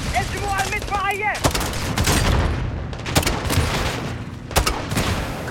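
Light machine gun fire in Call of Duty: Modern Warfare II, dense crackling bursts mixed with booms and battle noise, heard under shouted voices and radio chatter throughout.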